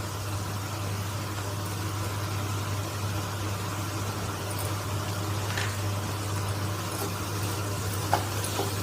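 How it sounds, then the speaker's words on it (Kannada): Ginger garlic paste sizzling and frying in a hot pan while making paneer bhurji, a steady close crackle running the whole time under a low constant hum. "ಈಗ ನಾನು ಶುಂಠಿ ಬೆಳ್ಳುಳ್ಳಿ ಪೇಸ್ಟ್ನ ಹಾಕೋತಿದ್ದೀನಿ"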